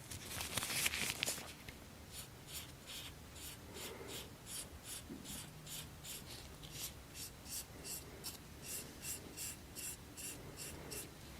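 Soft, scratchy pencil strokes repeat in a steady rhythm, as if brushed across eyebrows in a close, quiet beauty-salon roleplay. A heavier rub sounds near the start, then evenly spaced short strokes continue with no talking.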